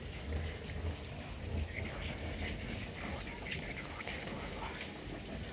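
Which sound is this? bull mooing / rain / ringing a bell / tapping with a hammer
rain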